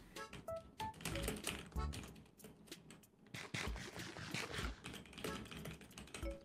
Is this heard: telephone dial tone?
no